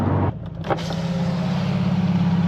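A tuned Subaru STI with an aftermarket exhaust sits close by, a loud, steady low rumble that holds for a couple of seconds after a brief dip and a faint mechanical whine.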